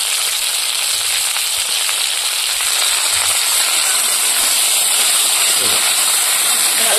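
Curry with green chillies, salt and turmeric sautés in a pan over a village cooking fire, giving a steady, loud sizzle with a broad hiss. It continues without a break.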